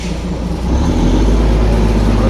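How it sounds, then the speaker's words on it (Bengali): A Darjeeling toy train hauled by a steam engine approaches, a deep, loud rumble building in the first second and then holding steady and close. "এই যে কিন্তু টয় ট্রেন এগিয়ে আসছে।"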